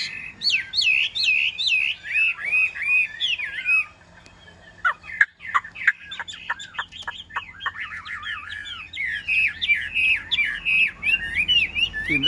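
A yellow-billed hwamei songbird sings loud, close, varied whistled phrases, pauses for a burst of sharp clicks and chips, then resumes its rich continuous song, with faint rain in the background.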